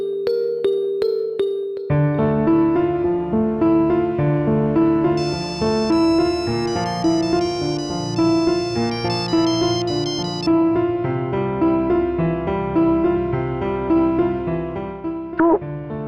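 A mobile phone rings with an incoming call, playing a melodic ringtone loudly and continuously for the whole stretch, with a repeating tune and layered bright tones, close by and with no voices over it.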